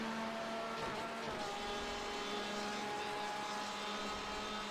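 An LMP1 prototype race car in iRacing sweeps past at Daytona during a 24-hour race, a steady high-revving engine drone with a brief swelling pass, loud and continuous with no talk.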